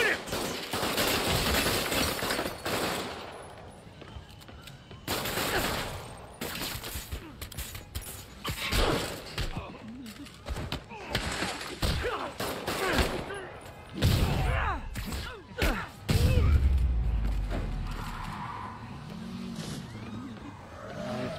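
Criminals firing guns at Spider-Man in a Spider-Man video game, repeated bursts of shots mixed with engine and action noise, with speech in places.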